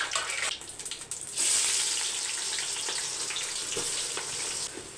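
Whole spices sizzle and bubble in hot coconut oil in a pan, a bright, crackling hiss that surges suddenly and then holds steady and close, with a few small pops and no talking.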